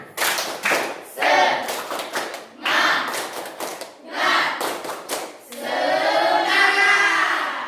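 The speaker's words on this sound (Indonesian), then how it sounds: "Kita tepuk semangat dulu." A school class stands and performs rhythmic spirit clapping in short patterned bursts separated by brief pauses, closing with a longer stretch of chanting voices.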